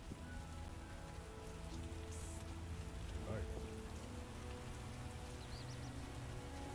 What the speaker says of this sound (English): Yes, it is raining.